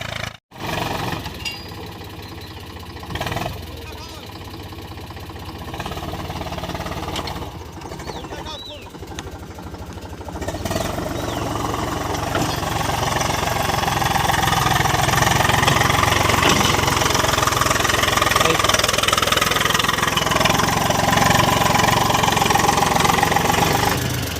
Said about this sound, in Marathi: हे ट्रॅक्टरने आम्ही रेषा पाडत आहोत